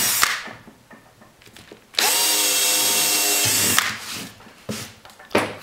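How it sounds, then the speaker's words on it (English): A power drill with a 1/4 inch extended bit whirs steadily for a couple of seconds, bracketed by handling clatter and short scraping bursts before and after, drilling mounting holes. "take your extended tip drill, the 1/4 inch one, and drill the 2 front holes over here."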